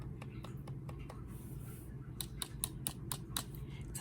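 LANGTU membrane gaming keyboard keys typed in a quick series of sharp, fairly quiet clicks, close by over a low background hum.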